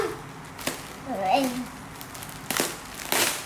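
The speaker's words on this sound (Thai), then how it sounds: "งั้นฉีกเลย" A delivery package holding a taekwondo uniform is torn open, giving a few sharp crinkling rips spaced across the moment while a voice briefly speaks in between.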